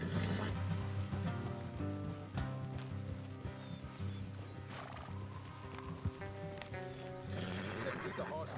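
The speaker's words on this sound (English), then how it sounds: "Let's leave the horses here and go the rest on foot." Horses in the Western video game Red Dead Redemption 2 whinny and neigh loudly over steady clip-clopping hooves, accompanied by game music and ambient sound, with no one talking.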